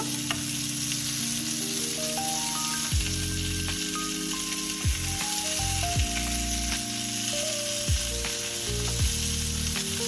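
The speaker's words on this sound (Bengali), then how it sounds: "পটলগুলো একটু উল্টে পাল্টে ভেজে নিচ্ছি" Pointed gourd pieces sizzle continuously in hot oil, a steady hiss with occasional clunks of turning and stirring, while a soft melody plays underneath.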